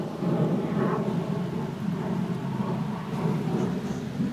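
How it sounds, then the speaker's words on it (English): Steady rain with low rumbling thunder, a continuous broad wash with deep rolling energy underneath, moderately loud and unbroken throughout with no voices. "It's raining."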